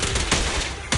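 Rapid gunfire in the video game Zenless Zone Zero cracks out in quick loud bursts within a single second, with a fresh volley hitting at the very end.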